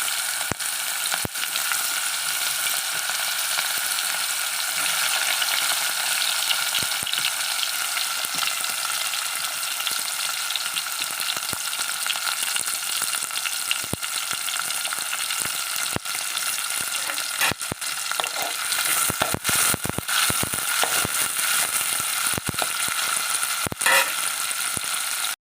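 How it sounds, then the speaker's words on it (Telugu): Sliced onions sizzle steadily in hot oil left over from frying brinjals for a stuffed eggplant curry, a loud continuous crackle with occasional sharper pops and stirring clicks throughout. "ఇప్పుడు అదే నూనెలో ఉల్లిపాయలు వేసేసుకోవాలండి"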